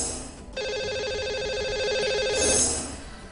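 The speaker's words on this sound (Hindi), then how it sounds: "तो लगाते हैं इन्हें अब कॉल और करते हैं इनसे बात।" A telephone rings out while a call is placed to a lucky caller on a Hindi radio show, a steady electronic ring tone running for about two seconds and then cutting off, loud and close with no talk over it.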